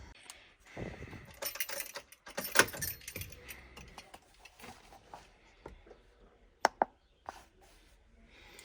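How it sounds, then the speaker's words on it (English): Keys jingle and rattle near the microphone as they go into the ignition of a VW Caddy, followed by a couple of sharp metallic clicks, with quiet pauses between the movements. "let's put the keys in the ignition."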